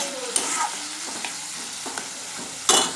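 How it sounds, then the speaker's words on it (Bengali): Mustard paste and sugar hit a hot pan with drumstick for a tangra fish dish, giving a steady close sizzle with a few soft stirring knocks and a sharp burst of spitting near the end, no talk. "এই সর্ষে বাটা আর চিনি একসাথে আমি দিয়ে দিচ্ছি।"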